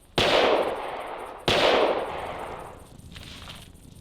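Two sharp gunshots about a second apart in the hunting game Carnivores, fired at a fleeing animal, each a loud crack trailing into a long decaying echo, followed by fainter rumbling.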